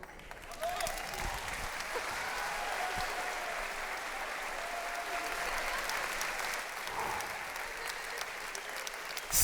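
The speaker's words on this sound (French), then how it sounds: "on peut les applaudir" An audience at the Grand Rex in Paris claps in sustained, dense applause that stays even in level for the whole stretch, filling the hall.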